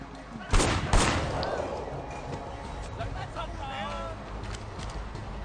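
Two loud, close gunshots ring out in quick succession in the video game Sleeping Dogs, followed by a lingering noisy backdrop with some voices.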